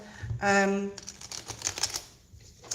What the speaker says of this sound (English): I'm just shuffling the Waite Smith